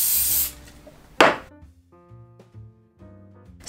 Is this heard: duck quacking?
no